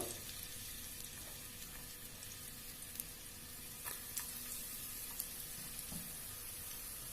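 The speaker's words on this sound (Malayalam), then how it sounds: "ഞാനിവിടെ സവാളയാണ് യൂസ് ചെയ്തത്. ഇതൊന്ന് മൂപ്പിച്ചെടുക്കുക." Onion and coconut pieces frying in oil for kalthappam, giving a faint, even sizzle throughout with a few soft clicks and stirring touches, heard alone.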